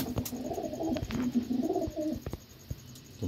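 Pigeons coo nearby in low, rolling, repeated calls, with a few soft taps and rustles in the background.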